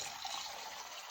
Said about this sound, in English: Pour the milk down the drain,